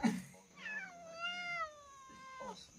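A cat meows in one long, drawn-out call with a rising then falling pitch, close and fairly clear, preceded by a short low thump.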